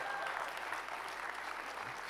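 A church congregation applauding during a Christmas sermon, a faint, even wash of clapping that continues steadily for a couple of seconds without voices.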